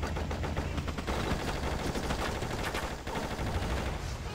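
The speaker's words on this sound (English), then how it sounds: "Sniper rifle." Gunfire in the video game Just Cause, with a sniper rifle involved: a loud, dense, continuous barrage of rapid shots with no pauses.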